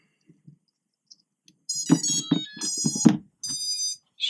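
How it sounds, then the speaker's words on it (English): A Eachine Wizard X22 quadcopter sounds a series of electronic beeps, a short burst then a longer tone pair, as its LiPo is plugged in and it binds to a Turnigy Evolution controller; close and clear, no talking. "Straight away it just beeps and that is now binded."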